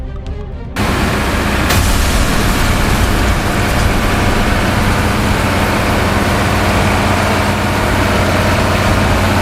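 A giant excavator with a 1,600 kW MTU diesel engine runs, making a loud, steady, broadband roar that starts abruptly and holds constant with no voices.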